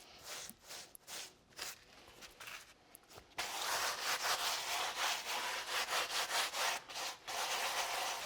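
Wet mortar spread by hand into the seams of a brick fireplace during a DIY makeover, heard as close, rough scraping and rubbing strokes that start soft and intermittent, then turn louder and more continuous in a steady rhythm.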